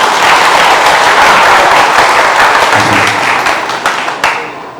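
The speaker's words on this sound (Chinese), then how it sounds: "请拍手" A church congregation applauds during an award presentation, with loud, dense clapping that fills the room steadily before tapering off near the end.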